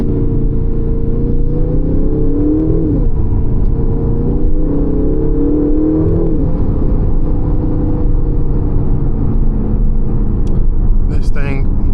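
Interior drone of a 2025 Aston Martin Vantage engine while driving, a loud steady rumble with a couple of small gear-change dips, continuous throughout with a faint click near the end.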